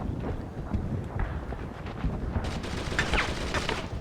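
Gunfire crackles in a Brothers in Arms battle, rapid overlapping shots from several rifles and machine guns, dense and fairly close, with a louder flurry of sharp cracks near the end.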